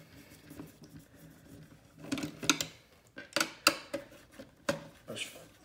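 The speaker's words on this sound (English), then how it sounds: "we have all these little black screws all the way around. So let's go ahead and remove all those." Small black screws are worked out of a Eufy RoboVac 11s robot vacuum, giving light plastic clicks, scrapes and small metallic ticks in irregular close bursts, with a few quiet gaps between them.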